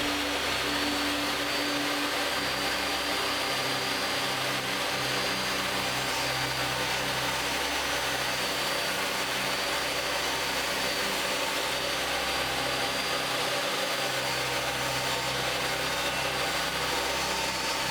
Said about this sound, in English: I start by cutting out some 6mm MDF